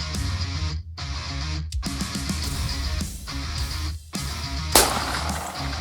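Gunfire on a Missouri turkey hunt, heard as several sharp, loud reports spread through the clip, including a bright crack near the end, over outdoor background with no talk.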